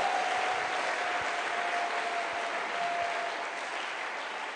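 Church congregation applauding the Lord during a sermon, with steady, dense clapping from many hands that holds at an even level throughout.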